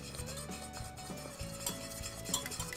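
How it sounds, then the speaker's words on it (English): Egg being whisked quickly into a thickened sauce for a sausage moussaka, rapid metal whisk strokes scraping and clinking against the pan in a busy rhythm, close and fairly quiet. "you really want to be whisking your sauce very quickly"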